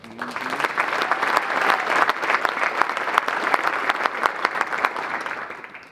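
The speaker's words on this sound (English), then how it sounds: "Is that worth a round of applause?" A crowd applauds steadily for several seconds, dense clapping that swells and then tapers off at the end.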